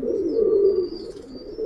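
Close, fairly loud cooing from pigeons kept for sale rolls in a continuous low murmur that swells and eases, with faint high chirps drifting over it and no voices.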